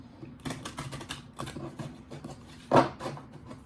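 Tarot cards being shuffled by hand, a rapid series of crisp riffling clicks and taps close up, ending with a louder slap as the deck is squared; no voices.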